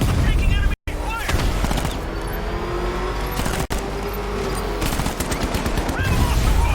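Enemy gunfire in Batman: Arkham Knight during a vehicle pursuit near a movie studio: dense, rapid volleys of shots with a roaring car engine underneath, broken by two brief cutouts.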